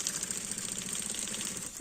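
A sewing machine running steadily while stitching a zipper on a multipurpose zippered travel case, a continuous fast mechanical whir held close and even throughout, with no talking.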